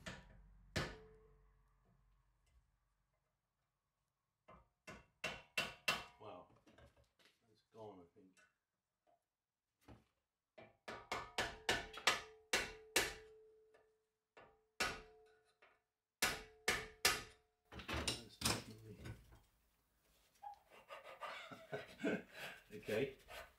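Sharp metal hammer blows splitting a seized nut on a V2 rocket steam pot, coming in clusters of close, crisp strikes separated by quiet pauses, with some brief handling sounds near the end.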